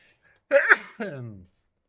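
A single sneeze in two bursts, a sharp intake-like onset followed by a forceful release, close and loud against near silence.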